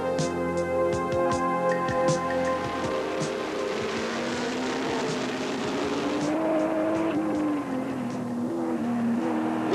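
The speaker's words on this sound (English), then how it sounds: "The cars are now out on their pace lap" Can-Am race cars circling Mosport on a pace lap in 1982, a steady blended engine drone with shifting tones rising and falling as the field passes, loud and continuous with no talk.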